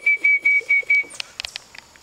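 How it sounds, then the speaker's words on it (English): A person whistles to a puppy: five short, clear, evenly spaced whistle notes close by, followed by a few soft scattered clicks and rustles. "if you whistle, she stops doing whatever she's doing."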